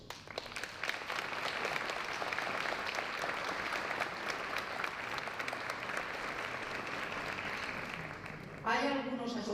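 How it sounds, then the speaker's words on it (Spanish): A room of pensioners' association members in Carracedelo claps for honored guests, sustained dense applause holding steady for several seconds before a voice cuts in at the end. "Creo que su presencia se merece por un primer aplauso"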